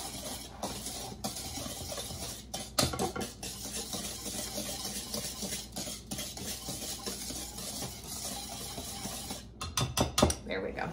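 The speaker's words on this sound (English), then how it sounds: "get my other whisk for just to break up some of these lumps in this brown sugar." A whisk breaks up lumps of brown sugar in a bowl, making faint irregular scraping and clinking taps with a few sharper knocks against the sides. No voices.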